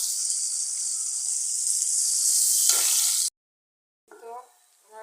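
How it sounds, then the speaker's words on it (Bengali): Sliced onions frying in hot oil for beresta, a loud, steady close sizzle lasting several seconds before cutting out, followed by brief faint clatter and talk. "পেঁয়াজ বেরেস্তা করে নেব।"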